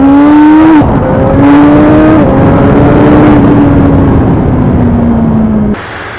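A 2017 Suzuki GSX-R1000R engine running loud and close, a strong tonal drone stepping through gear-like pitch shifts before cutting off near the end.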